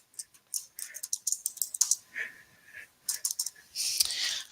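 Computer keyboard typing in short bursts of light clicks, some pauses between runs of keystrokes and a denser flurry at the end, fairly close and clear with no talking over it.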